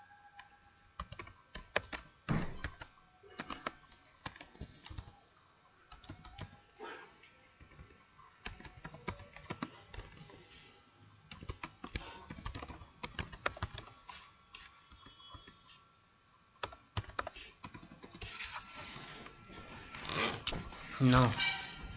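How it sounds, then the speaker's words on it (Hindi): Rapid clicking of typing on a computer keyboard, in bursts and pauses while a Hindi tutorial voice talks over it during WordPress website setup. "इसे टाइप करिए।"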